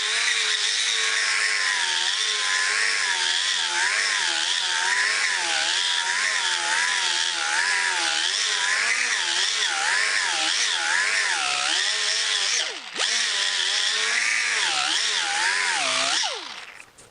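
Power sander with a small 2-inch hook-and-loop disc grinding an aluminum Jaguar E-Type bonnet: a loud, steady high-pitched whine with wavering pitch as pressure changes, briefly dipping near the end before winding down.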